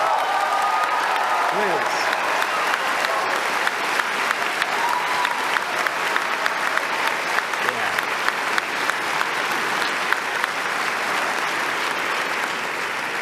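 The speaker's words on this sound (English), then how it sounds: "Give yourself a round of applause" A graduating class of 2017 at a commencement ceremony applauds itself with sustained, loud crowd clapping and scattered cheers and whoops. A speaker's voice briefly cuts in over the noise.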